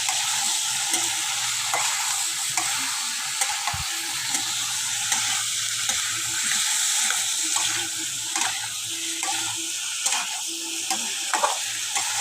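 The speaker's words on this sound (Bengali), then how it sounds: "আমি শসাগুলোকে মিশিয়ে নেব" Cucumber with green chilli paste and a little chilli powder is stirred in a pan, a continuous soft sizzle with scattered scraping clicks of the spoon, close and moderately loud, no talking.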